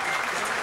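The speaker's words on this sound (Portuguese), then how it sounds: "Uma salva de palmas ao guia Alemão" Applause from an audience at a 1998 anniversary celebration of the Pousada do Rio Quente, greeting a German tour guide; a dense, steady burst of clapping, brief and close.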